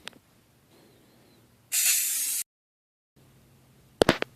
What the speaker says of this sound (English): I've completed the spray painting portion.